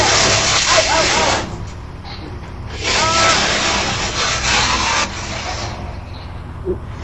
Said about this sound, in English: There's a guy out in front of my house tossed his big huge tree in and sawing it down.